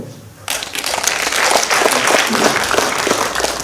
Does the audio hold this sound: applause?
yes